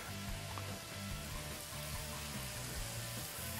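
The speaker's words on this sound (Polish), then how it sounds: "mamy tutaj smażenie." Pork tenderloin frying in clarified butter, a steady close sizzle and crackle with a low hum beneath, continuous throughout with no talking.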